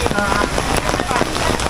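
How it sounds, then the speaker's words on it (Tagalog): Heavy rain pouring outdoors at a dinosaur theme park, a dense, steady hiss of drops pattering on surfaces close by, with no break in the downpour. "lalo pang lumakas yung ulan dito sa labas"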